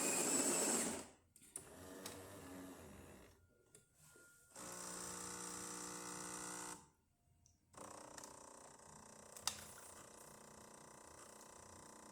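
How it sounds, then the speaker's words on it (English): A Jura A9 espresso machine brews a test shot after a tune-up: a loud grinder whir at first, then mechanical clunks and a steady pump hum with gurgling pauses, close and alone. "So there's that shot of espresso"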